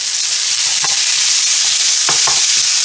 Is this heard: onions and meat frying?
yes